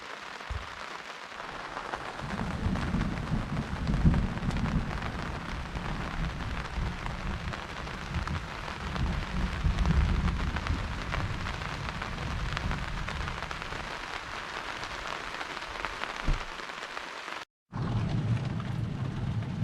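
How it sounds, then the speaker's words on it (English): Steady heavy rain pouring down outside during an electrical storm, a continuous loud hiss with a brief dropout near the end and no distinct thunderclaps standing out. "Due to the electrical storm outside"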